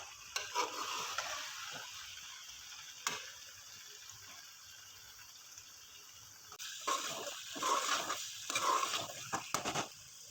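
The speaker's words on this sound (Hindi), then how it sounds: "अब हम लोग इसको तकरीबन 5 से 6 मिनट के लिए अच्छी तरह से जो है भूनेंगे।" Potato and aubergine curry roasts in a pan after its liquid has dried off, giving a faint sizzle with occasional stirring scrapes and clinks, quiet and close, with no voices.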